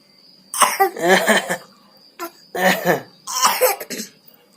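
A child coughs in several harsh, rough bursts, grouped fits separated by short pauses, loud and close.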